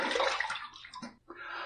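Water splashes and runs briefly as a razor and face are rinsed after a shave, a close, short burst of sloshing with a brief pause before it resumes.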